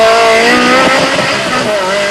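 A Ferrari 360 Modena sports car drives past loudly with a steady, high engine whine and sustained tonal roar, heard up close over two seconds, with faint talk beneath.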